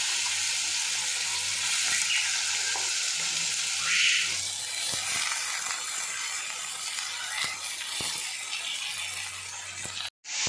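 Vegetables frying with whole cumin seeds in hot oil, a loud continuous hiss and sizzle close by with a few soft stirring knocks, no voices, cut by a short gap near the end.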